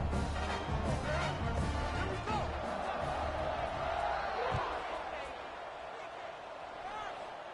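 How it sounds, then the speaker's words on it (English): A home stadium crowd at a TCU versus BYU football game roars and cheers just before kickoff, a broad, sustained wash of noise that fades slightly toward the end, with a commentator talking over it. "this crowd now ready to get behind them"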